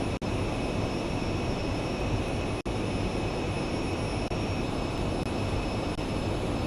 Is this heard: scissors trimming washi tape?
no